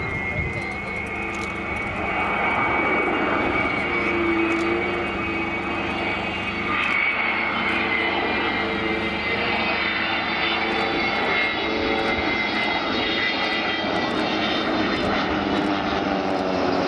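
Avro Vulcan XH558 bomber arriving at Cosford Airshow 2013, its jet engines roaring loud and steady throughout, a broad sustained rumble with shifting tonal whine as it passes, voices talking underneath.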